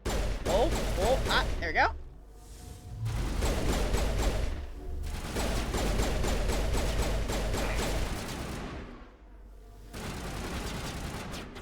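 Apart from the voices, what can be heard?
gunfire in video game Mass Effect 1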